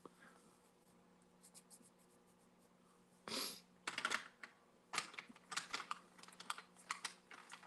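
A Sparkle Pop pen scratches along the edges of a drawing in short, close bursts of strokes over a faint steady hum, with no talking.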